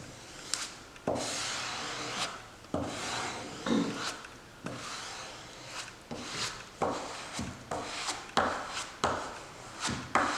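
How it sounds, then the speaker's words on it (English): A squeegee pulled over cold wax medium gives repeated close, dry scraping and rubbing strokes, each a short rasping swipe with brief pauses, steady and fairly loud with no talking. "And then you take your squeegee and you pull it over."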